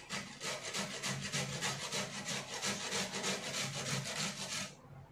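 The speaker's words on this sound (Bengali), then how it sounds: "কফিটাকে এই যে এই ঘষুনিটা দিয়ে কফিটাকে ভালো করে ঘষে নেব" Cauliflower rubbed on a hand grater for a paratha makes rapid, rhythmic scraping strokes, close and fairly faint, continuing steadily for several seconds before stopping.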